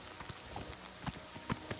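A horse's hooves clip-clop in the video game Elder Scrolls IV: Oblivion Remastered, making soft, fairly quiet, irregular thuds over a short stretch.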